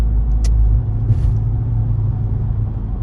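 A stock Dodge Charger Daytona engine and exhaust rumble loud and close from inside the car, a deep steady low drone with a brief sharp high click near the start and a faint squeal midway.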